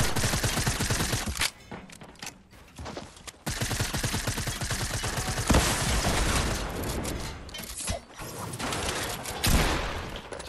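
Rapid bursts of video game gunfire, sharp repeated shots in fast volleys with brief pauses between them and a loud, close sound, with no talking over it.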